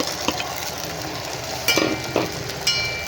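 Mushrooms and gongura leaves fry in a pan, giving a steady close sizzle with a few sharp clatters of stirring.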